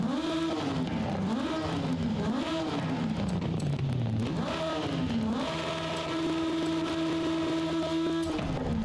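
Peel P50 fitted with a huge turbo in the racing game Forza Horizon 5 revs repeatedly, its engine pitch rising and falling through several gear changes before holding a steady high drone, fairly quiet.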